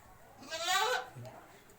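A single goat bleats once inside a netted enclosure, a short wavering cry close by, with faint background noise before and after.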